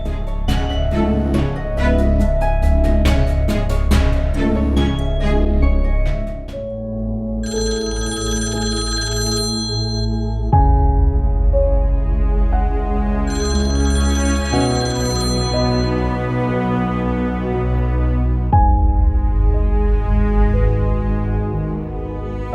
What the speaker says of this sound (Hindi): प्लीज अबरार फोन तो उठाओ